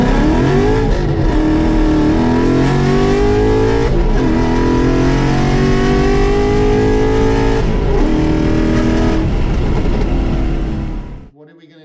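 A Cobra Jet car engine with racing cams roars loudly and continuously on a dyno, revving high with pitch shifts and steady drone, before cutting off abruptly at the end.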